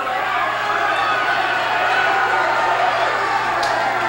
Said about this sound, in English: the crowd roars its approval